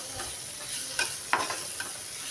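Pepper powder and chaat masala are stirred into a bread toast filling in a pan. Soft, steady scraping and a faint sizzle carry a few light spoon knocks.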